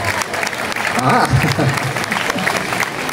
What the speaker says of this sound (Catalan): Un aplaudiment també per ella.